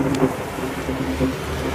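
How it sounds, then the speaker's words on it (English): Heavy rain pours steadily in a severe summer thunderstorm in Nassau County, wind-driven and loud close by, with a dense continuous hiss and low rumbling underneath throughout. "the wind is blowing the rain right in toward us."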